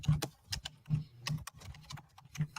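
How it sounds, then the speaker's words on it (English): Fast typing on a computer keyboard, a run of crisp clicky key strikes in uneven bursts, close and fairly quiet, with no talking. "And I hear Pop's typing."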